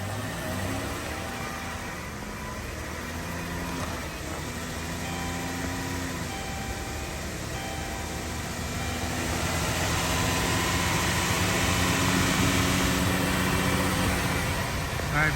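Dodge Grand Caravan engine running and pulling up through the gears during a transmission fluid and filter change, a faint hum with stepped pitch changes that grows slightly louder, with people talking over it.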